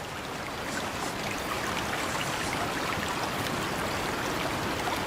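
Steady wash of water at night while swimming, a constant broadband splashing and rushing hiss with no pauses.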